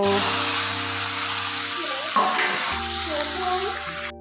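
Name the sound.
chicken added to hot oil, sizzling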